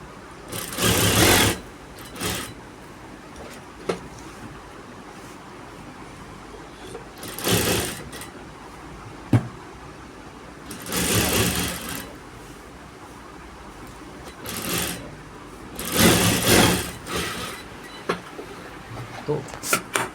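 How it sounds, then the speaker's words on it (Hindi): An electric sewing machine stitches the lining of a kurti in short, loud whirring bursts separated by quieter pauses, with someone talking in the gaps. "देखिए, मैंने इधर भी इसी तरह से सिलाई लगा रहा हूँ अस्तर पे।"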